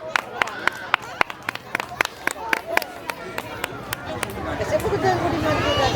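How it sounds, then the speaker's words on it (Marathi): An audience at a Shiv Jayanti cultural program claps, beginning with scattered sharp individual claps that build into fuller, denser applause by the end, with faint crowd murmur beneath. "जोरदार टाळ्या होऊन जाऊ रे."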